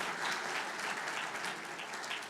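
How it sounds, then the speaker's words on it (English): Audience applause for panel members at a globalisation debate, a short burst of dense, even clapping from a sizeable crowd throughout. "Give them a round of applause"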